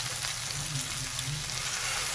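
Fish frying in a pan over the stove, with a steady, soft sizzle and crackle of hot oil, close up and continuous, with no voices.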